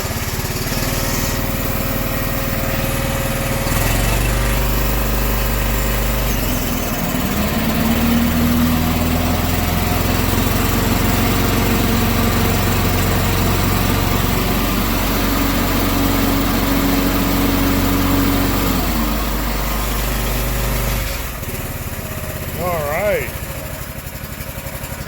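A Snapper zero-turn mower engine runs loud and near, then revs higher as the blades engage, holding a steady drone for about fifteen seconds before settling back down, with brief talk near the end.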